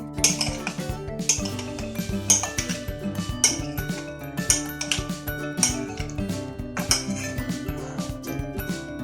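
A metal spoon stirs fruit chaat seasoned with chaat masala in a bowl, giving a steady run of bright clinks and taps against the dish, close and fairly loud, with no talking.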